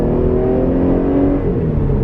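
A 2019 Jeep Grand Cherokee Limited in sports mode accelerates hard, its engine giving a steady, loud, rising roar heard from inside the cabin with no talk.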